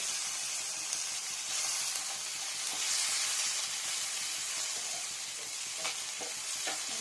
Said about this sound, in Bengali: ভালো করে ফ্রাই করে নিই